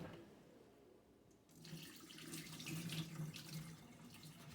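Rice being rinsed under a running kitchen tap to wash off the starch, with water splashing steadily into the sink and swelling louder partway through, heard alone without talk.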